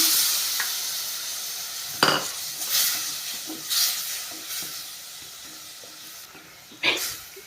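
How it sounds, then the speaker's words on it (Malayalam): Soaked kudampuli (Malabar tamarind) water is poured into masala frying in a pan for a Kerala-style river fish curry, a steady sizzle and hiss with a few sharp splashing bursts and utensil clinks, close and fairly quiet. "കുടംപുളി ഞാൻ വെള്ളത്തിലിട്ട് വെച്ചിരുന്നു അതിങ്ങനെ ഒഴിക്കുകയാണ്"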